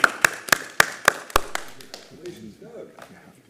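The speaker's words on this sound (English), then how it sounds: "So I would like to give a round of applause for Mr." A short run of sharp, evenly spaced hand claps at a city Traffic and Parking Commission meeting welcoming the new Director of Public Works, six quick claps that fade into murmured talk.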